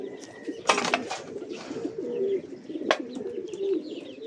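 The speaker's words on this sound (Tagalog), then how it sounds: "Young bird." A young racing pigeon coos softly and close, a low, throaty burbling repeated through the stretch, with a couple of sharp background clacks and a faint hiss.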